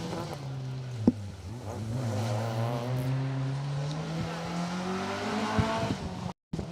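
A Vauxhall Corsa rally car runs flat out on an asphalt rally stage at the Jim Clark Rally, its engine note climbing and falling through gear changes as it passes nearby, with faint crowd sounds in the background.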